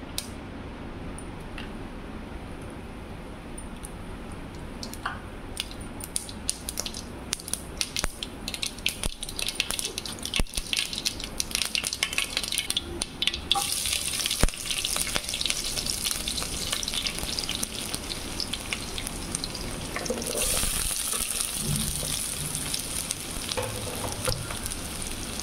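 Mustard seeds frying in hot oil for masala oats: a dense, continuous sizzle filled with rapid crackles and pops that grows louder and busier midway, heard close with no talking.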